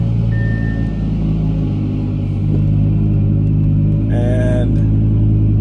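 An Audi R8 engine idles loud with a deep steady rumble and strong low harmonics while being driven out of a garage, with a short higher-pitched tonal squeal toward the end.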